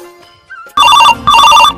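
A phone ringtone plays loudly and close in two bursts of a bright repeating electronic trill, following a few faint tones.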